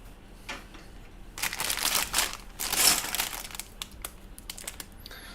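Close LEGO plastic packaging crinkling and crushing in irregular bursts, louder in the middle, with quiet gaps between handling noises.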